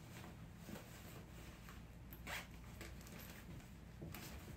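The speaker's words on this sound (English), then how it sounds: "So there's a zipper here, and you just unzip this all the way around." A jacket sleeve zipper is slowly unzipped from a puffer vest, giving a faint, steady, continuous rasp of teeth separating close by, with no talking.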